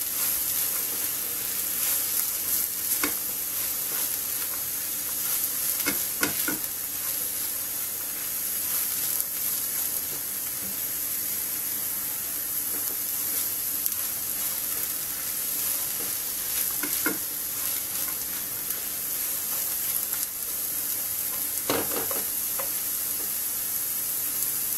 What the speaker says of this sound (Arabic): نقليو البصل ديالنا